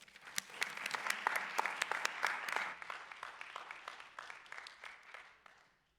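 An audience welcomes guest Marilyn Hassid at a Sisterhood Shabbat gathering, warm sustained clapping with a few sharper nearby claps, gradually thinning and fading out.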